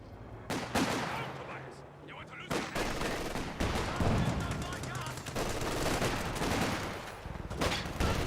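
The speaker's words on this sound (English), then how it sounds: "Rifle grenade fire, he will dodge it." Dense gunfire and explosive bursts from a Company of Heroes 2 battle, with a rifle grenade among the shots, crackle steadily and loudly across the whole stretch, with little pause between volleys.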